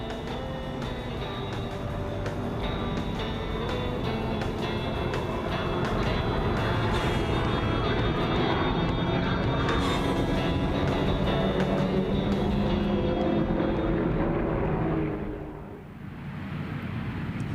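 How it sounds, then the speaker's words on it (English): Airliners from Jordan's national airline, flown by military pilots, roar past at a British air show in a loud, steady, wide wash of engine noise that dips briefly near the end. "they're flying these aeroplanes that are actually provided by the National Jordanian Airline"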